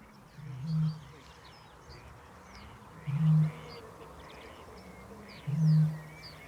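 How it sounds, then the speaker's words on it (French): A Eurasian bittern in a marsh gives three deep, hollow booms spaced a couple of seconds apart, each low and resonant, over a quiet background of faint birdsong. "il faut se taire pour pouvoir écouter le fameux mugissement caractéristique du butor"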